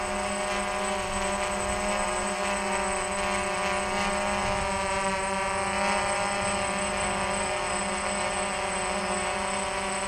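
A DJI F550 hexacopter hovers steadily in GPS loiter mode, its six rotors giving a constant buzzing whine with layered tones, close and unchanging throughout.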